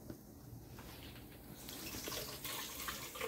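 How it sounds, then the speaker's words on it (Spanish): Water poured into a jug while squeezing coconut for a second coconut milk in a fish sancocho recipe, a steady gushing splash rising slightly toward the end, close and alone. "Le ponemos un poquito de agua a la jarra, sacamos todo."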